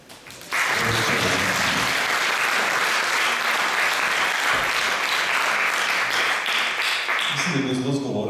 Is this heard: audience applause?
yes